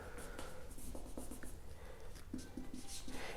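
Chalk or marker strokes on a board during a maths lesson, several short scratchy taps and squeaks spread across a few seconds, faint and close, with no talking.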